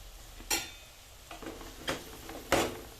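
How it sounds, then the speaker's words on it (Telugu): Spoon scraping and stirring curry in a frying pan, three or four distinct scrapes spaced about a second apart over a quiet sizzle, close and fairly soft. "అడగంటుకునే ఛాన్స్ ఉంటుంది మంచిగా గీకుంటా కలపాలి"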